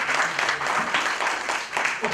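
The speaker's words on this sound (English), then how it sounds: "Can we have a big round of applause before we start the session?" Dense applause from a sizeable audience at the start of a writing session, steady and loud throughout, with a few voices mixed faintly underneath.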